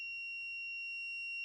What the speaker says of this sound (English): we touch the casing and we should hear a beep